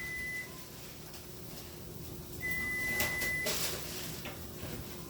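An oven sounding its preheat signal at 350 degrees: two clear electronic beeps, one short and one longer, over quiet kitchen room noise and a brief clatter.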